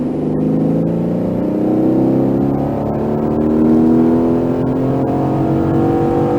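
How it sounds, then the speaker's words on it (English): Race car at SpeedVegas held at full throttle on the track, a loud sustained engine roar climbing steadily in pitch as it accelerates, continuous and close with no talk. "Squeeze the throttle all the way down."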